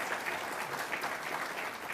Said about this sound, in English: And we would like to give them a hand clap just for coming.